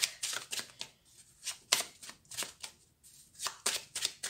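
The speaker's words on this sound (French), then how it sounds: "Et je fais tomber mes cartes." Tarot cards being shuffled and dropped, heard as a rapid sequence of soft riffling flicks and papery slaps in uneven bursts, close and fairly quiet.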